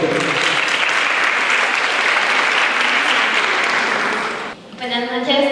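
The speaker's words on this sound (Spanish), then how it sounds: "un aplauso para él" An audience at an academic education presentation applauds loudly and steadily for several seconds, then the clapping cuts off and a voice begins speaking.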